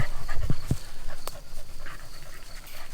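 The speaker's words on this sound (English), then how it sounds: "My dogs!" Dogs panting quickly and rhythmically nearby, with a few sharp bursts, over steady background noise and no talk.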